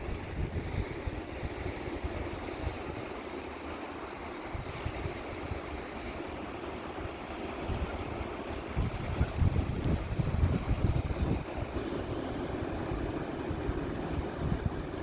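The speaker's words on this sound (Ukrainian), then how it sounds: "І сьогодні шторм які здорові хвилі." Stormy October surf pounding a Black Sea beach at Chornomorsk, big white-capped waves rolling in with a steady roar and wind buffeting the microphone, swelling louder for a few seconds near the end.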